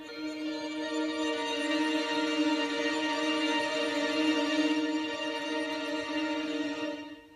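Roland System 100M synthesizer arpeggio run through Guitar Rig with heavy reverb, blurred into a continuous washing pad of sustained tones that swells steadily and fades at the end, moderately loud and alone.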